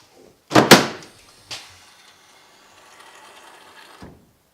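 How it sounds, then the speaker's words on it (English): A pickup truck tailgate fitted with a cheap tailgate assist mod swinging shut: two loud, close metallic clunks in quick succession, a lighter knock, a faint rattling settle, and a soft final latch click, with no talking. "Door easily closes up as if it was normal."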